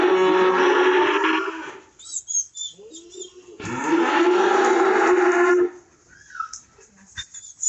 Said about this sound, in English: Got one of them little calves down there that's so hoarse. Sounds like a horse jackass.